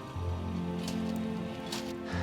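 Steady rain with squalling wind sweeps over a building site where formwork is being readied for a concrete pour, a dense, continuous wash of noise with a few brief brighter gusts and no voices.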